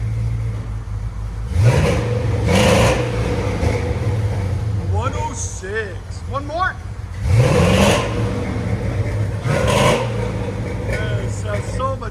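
A 1947 International KB2 truck with a swapped 6.0L LS V8, headers and Flowmaster 40 exhaust revs in two sharp throttle blips over a rumbling idle, with people talking nearby between revs.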